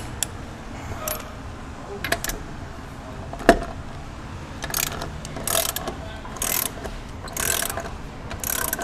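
A hand ratchet clicks in short, quick bursts as it torques the tire carrier bolts on a Lexus GX470, close up, with a few louder metallic clacks between runs.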